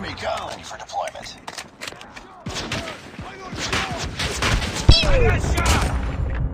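Gunfire from the mobile shooter game Call of Duty: Mobile, with rapid bursts of shots and thumps mixed with in-game voice callouts, a louder crack standing out near the end.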